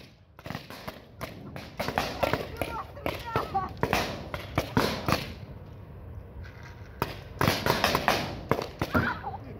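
Paintball markers fire in quick paired shots during an outdoor paintball game, sharp pops arriving in clustered bursts with pauses between, while players talk and shout nearby.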